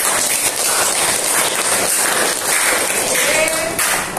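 Classroom of students clapping together in a steady, dense wash of applause that fills the whole stretch at close range, without a break.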